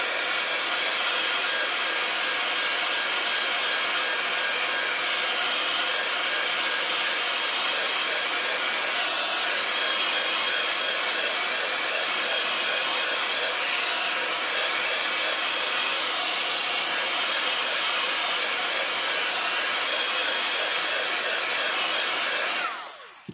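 A heat tool drying texture paste on a handmade card gives a steady, loud blowing whir that runs unbroken for over twenty seconds and then cuts off abruptly, with no voice over it.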